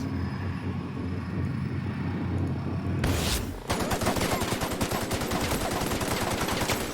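Rapid SMG gunfire in The Outer Worlds rattles out in dense bursts, loud and close, starting after a few seconds of rumbling ambience and continuing steadily to the end.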